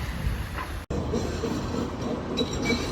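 A metro train runs through Istanbul's old city, giving a steady, fairly loud rumble with rhythmic wheel clatter and faint squeals, with no talking.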